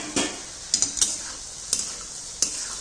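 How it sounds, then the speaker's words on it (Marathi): Paneer frying in gravy in a pan over a medium flame, a soft steady sizzle punctuated by about five sharp spatula taps and scrapes against the pan. "तिथं पनीर पण चांगलं आपण फ्राय करून घेतलेलं आहे"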